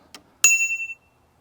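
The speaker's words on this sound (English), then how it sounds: "really loud bell" A loud bell on a Himiway Zebra electric bike is struck once after a light tap, giving a sharp metallic ding whose bright ring sustains and fades over about half a second, close and isolated.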